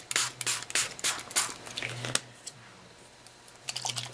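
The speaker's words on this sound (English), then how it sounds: "I'm just going to spray this on here while it's wet" Bursts of Adirondack color spray hit wet paper laid on a towel for a mail art piece, several quick hissing sprays in an uneven rhythm, close and moderately loud, with a quiet pause midway before a few more bursts.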